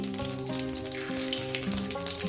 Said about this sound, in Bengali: তেলটা আমার গরম হয়ে গেছে বন্ধুরা দিয়ে দেবো এখানে গোটা জিরে একটা তেজপাতাকে আমি দু টুকরো করে কেটে দিচ্ছি